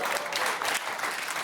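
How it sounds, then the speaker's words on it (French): A studio audience claps on a French television talk show, a short, steady burst of fairly distant, evenly textured applause without talk. "Vous applaudissez, vous allez acheter le disque."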